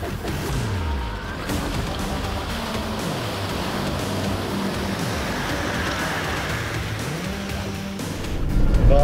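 A Suzuki Jimny descends a gully off-road in first gear low range, its engine droning steadily and loudly close by, with pitch rising and falling as revs change and a brief surge at the end.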